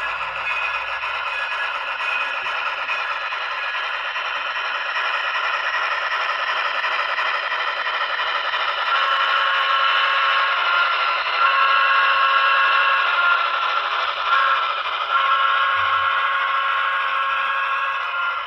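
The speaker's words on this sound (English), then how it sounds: "That's such a cool sounding locomotive here." A model locomotive rolls across a gym floor, giving a continuous close scraping, rattling rumble from its wheels and mechanism that swells slightly in the middle, with no talk over it.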